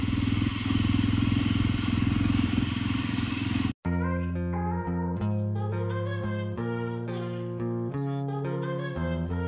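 A motorcycle on a short ride to a local salon gives a loud, steady engine roar for about four seconds, then cuts abruptly to a different, tonal sound.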